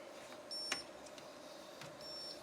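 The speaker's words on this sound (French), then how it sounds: "la machine continue de biper parce que le papier est bien chargé" A Selfie Booth photo printer beeps after fresh paper is loaded, with two steady electronic tones, each about half a second long, ringing out clearly over a low room hum.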